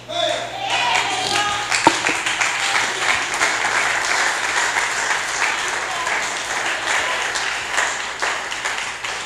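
An audience of evangelical Christians applauds during a church sermon, a dense burst of clapping that starts abruptly, holds steady, then eases off toward the end.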